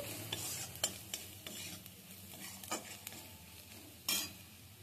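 Jackfruit pieces sizzling in a pan with turmeric, chilli, coriander and cumin powders, gentle frying hiss under repeated scrapes and taps of a spoon stirring, close but quiet, with no voices.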